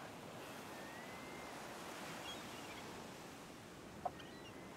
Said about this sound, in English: Nice calming waves.